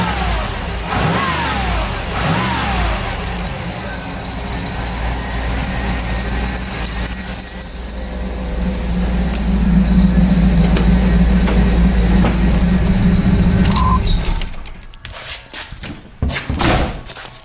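A third-generation Camaro IROC-Z engine runs steadily after a new ignition distributor install, a continuous loud rumble that swells slightly midway and then cuts off abruptly, followed by a few scattered clunks.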